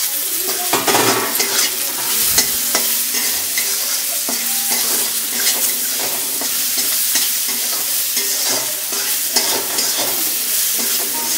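Four green chillies crackle and sizzle in a pan of hot oil while a utensil stirs them, giving close, busy scraping and bubbling with repeated stirring strokes and no voices.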